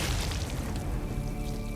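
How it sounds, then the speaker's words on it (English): A heavy, booming thud of a body striking the ground in a stone catacomb chamber, from the visual novel Tsukihime, a dense low rumble filling the short moment without any voices. "A sickening thud echoes across the chamber"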